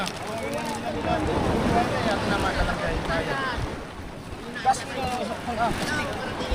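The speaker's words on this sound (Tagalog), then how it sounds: "Mamadali po yung bangka ni Kajisa" A boat motor drones steadily over rushing water and wind buffeting the microphone, with voices talking faintly in the background.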